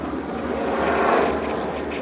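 A helicopter passes overhead outdoors, a steady broad rotor and engine roar that swells slightly toward the middle and stays loud throughout, with no voices.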